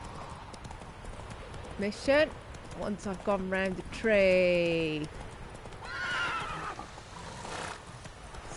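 Horse in the video game The Witcher 3 clip-clopping along with hoofbeats and giving several loud whinnies and neighs, heard near alongside someone talking.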